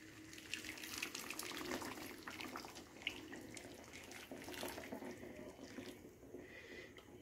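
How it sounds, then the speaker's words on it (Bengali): Hot water pours from a cup into a pan of cooked-down masala for potol korma (pointed gourd curry), a soft, continuous splashing stream that runs for several seconds at low volume. "সেই জলটা দিয়ে দেব"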